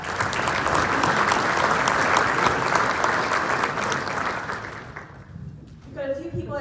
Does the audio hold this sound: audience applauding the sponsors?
yes